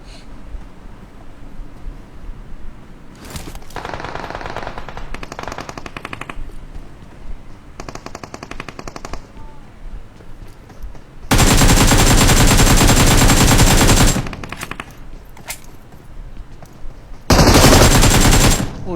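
Rapid automatic gunfire in a squad-based shooting video game, with quieter bursts early on, then two loud, sustained volleys of full-auto fire near the end.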